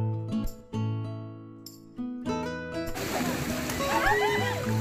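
Splashing and sloshing of people playing in a shallow river beside rice paddies, starting after a stretch of steady tonal sound and continuing busily to the end, with voices mixed in.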